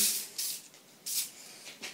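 An aerosol can spraying into a silicone mold, three short hissing bursts in quick succession, close and fairly quiet, with near silence between them.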